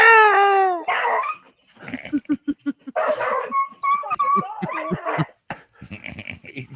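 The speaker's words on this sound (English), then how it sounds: "the dog thinks it's tough right here." A dog yelps, whimpers and barks in a rapid, uneven series of short bursts close by, with high whining cries mixed between the barks.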